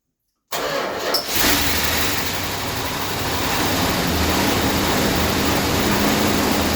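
A Mopar engine with a newly installed cam cranks and catches after a brief silence, then settles into a steady, fairly loud idle that runs continuously to the end.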